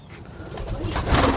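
Old-bloodline Teddy pigeons coo in short, soft, throaty bursts, close by, building slightly louder toward the end with no voices.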